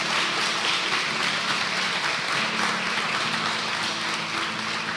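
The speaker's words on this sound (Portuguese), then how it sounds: "uma salva de palmas para essas pessoas." A church congregation applauds first-time visitors with a steady, dense wash of clapping that holds evenly throughout and sounds fairly close.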